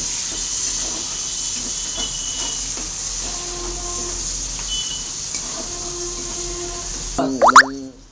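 Chopped onion goes into hot oil with whole garam masala, bay leaf and cumin, a steady bright hiss and sizzle with soft knocks and a few clinks, ending in a short burst of louder clatter.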